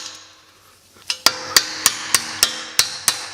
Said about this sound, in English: put a punch on it, hit it with a hammer.